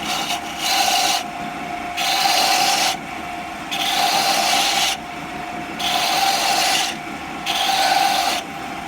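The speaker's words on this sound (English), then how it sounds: "So now I'm going to use my gouge again." A gouge carves wood while a musketeer rapier is being made, producing five rhythmic rasping strokes, each about a second long, separated by short pauses.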